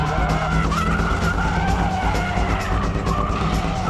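Car in a braking drift, tyres skidding and squealing loudly and continuously, with engine roar underneath throughout.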